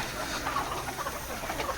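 Laying hens cluck inside a poultry farm shed in the morning. Several soft, repeated clucks and short calls come from nearby birds over a low background hum.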